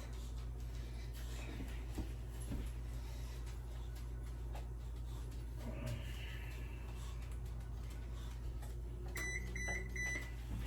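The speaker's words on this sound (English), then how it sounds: "And that was my oven" A kitchen oven signals with a series of short, high electronic beeps near the end, heard over a constant low appliance hum.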